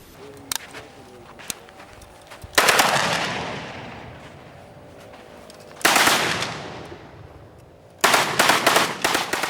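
An ex-militant in the Niger Delta fires an automatic weapon, loosing three loud, long bursts of rapid gunfire that each ring out and decay, with scattered single shots and quieter gaps between them.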